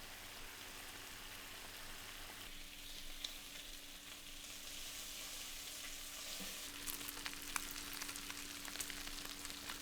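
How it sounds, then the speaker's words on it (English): Eight strips of bacon frying in oil in a large frying pan over medium-high heat, a steady dense sizzle and crackle with scattered sharper pops, close and continuous with no voices. "Add 8 strips of bacon and fry for about 5 minutes"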